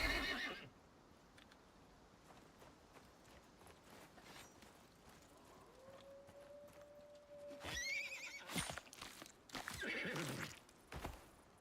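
A horse in the survival video game Icarus whinnies and snorts, with hoof clip-clops and a rising tonal game effect; the sounds come in short bursts, fairly close, over a quiet ambient background.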